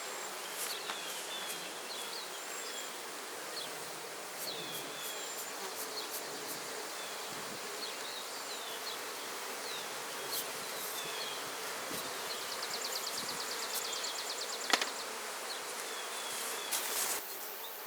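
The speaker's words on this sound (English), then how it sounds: "I'm going to brush these bees off" Honey bees drone around hive frames during a honey harvest, a faint steady buzz with individual bees zipping past the microphone now and then, plus a few soft sharp knocks toward the end, with no speech.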